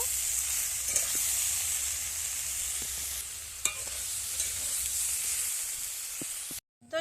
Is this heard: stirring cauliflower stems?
yes